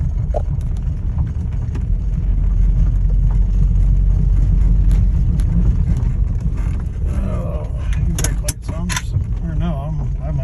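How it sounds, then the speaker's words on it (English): A 1990 Volvo 740 turbo wagon on the move, a low, steady engine and road rumble from inside the cabin with rattles, clicks and wind buffeting, while voices talk throughout. "First drive in the Volvo, y'all."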